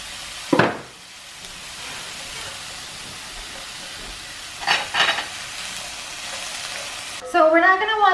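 Chopped vegetables and spicy peppers sizzle steadily in hot roux for a Louisiana gumbo after a sharp splash as they hit the pan. Stirring bursts follow midway, and a voice speaks over the hiss at the end.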